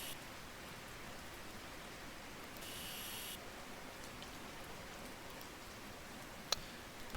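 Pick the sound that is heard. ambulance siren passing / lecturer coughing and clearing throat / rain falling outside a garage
rain falling outside a garage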